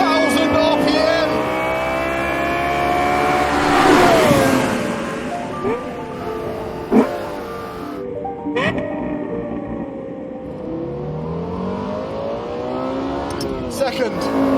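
Lexus LFA engine revs high and climbs through the gears, a loud shrieking wail rising and dropping with shifts, while someone talks over it.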